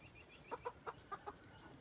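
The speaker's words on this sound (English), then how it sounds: "And then there's our crazy chickens." Chickens on a homestead cluck quietly in the distance, five short, evenly spaced clucks in a quick series over faint background hiss.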